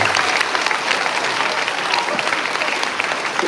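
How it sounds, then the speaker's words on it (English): A school assembly audience gives a loud, sustained round of applause for students and a teacher's team, dense clapping from a large crowd filling the whole stretch. "could we please give not only those students, but Mr. Daniel and his team a big round of applause"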